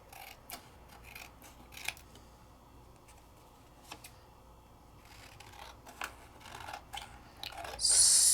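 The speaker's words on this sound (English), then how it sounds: "let's cut this one out" Scissors cutting out paper for a stamping craft project, with a series of close, crisp snips spaced irregularly and soft handling rustle between them, then a louder rustle at the very end.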